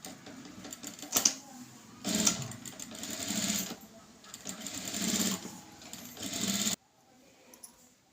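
A sewing machine runs in bursts while stitching around the neck of a blouse, whirring steadily for several seconds between short pauses, fairly close and loud, then stopping near the end.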